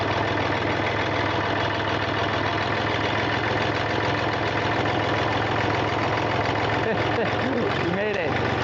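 A Massey Ferguson 231 tractor engine runs smoothly at a steady idle, loud and close throughout, with a voice coming in briefly near the end.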